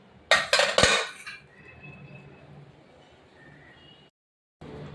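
Dal mashed and stirred into cooked vegetables in a steel pot: a loud burst of clanking metal utensils scraping and knocking against the pot, then quieter kitchen background for a few seconds before a short noise returns.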